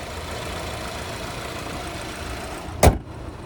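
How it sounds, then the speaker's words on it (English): A 2020 Cadillac CT5 with a 2-liter turbocharged four-cylinder engine runs at a steady low idle hum close by, broken near the end by a single sharp thump like a hood or door closing. "There's the engine bay there again, the 2-liter turbocharged 4-cylinder."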